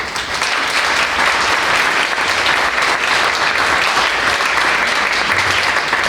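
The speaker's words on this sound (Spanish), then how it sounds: "Les pido por favor un aplauso" Loud, steady applause from a conference audience, sustained clapping throughout with no break.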